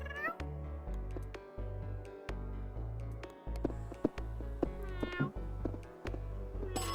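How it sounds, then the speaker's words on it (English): Stray cats meow repeatedly in the Cat Cafe Manager video game, a string of short, clear mews coming in quick succession over a steady low background. "Some stray cats, as if I have space for any more cats."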